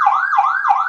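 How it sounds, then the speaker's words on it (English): A Powercall UDX7 emergency siren sounds its yelp tone, a loud, fast, rapidly rising and falling electronic wail repeating about three times in one second, close and alone. "That's the yelp tone."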